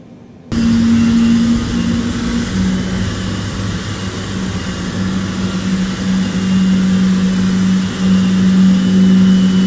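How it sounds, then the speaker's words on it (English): Engine 1 of a Boeing 777 in Microsoft Flight Simulator 2020 spools up abruptly into a loud, steady turbine whine and roar, holding a sustained drone with a slight rise in pitch. "Starting engine 1. Giving fuel to engine 1."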